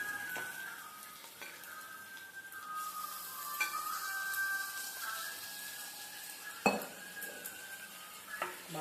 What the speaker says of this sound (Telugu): ముందుగా నానబెట్టుకున్న చికెన్ని ఇప్పుడు మనము కళాయిలో వేసుకుంటున్నాం